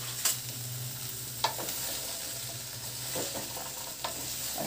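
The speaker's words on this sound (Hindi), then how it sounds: "अब इनको अच्छे से मैं मिक्स कर लूँगी," Radish and peas are mixed together in a pan, a soft background hiss punctuated by a few sharp spoon scrapes and taps spaced out over a few seconds.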